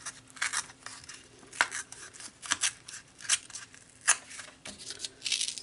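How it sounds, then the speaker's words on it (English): Paper torn by hand for page maps, in several short ripping and crinkling bursts, close and fairly quiet, with pauses between pulls. "And this time, I'll start tearing down here."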